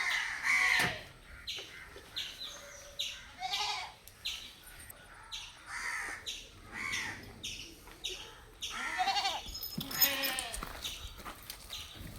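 Goats at a livestock sale bleat repeatedly and irregularly over about twelve seconds, among them a mother goat in her second pregnancy. The bleats are close, with crows cawing and faint background noise.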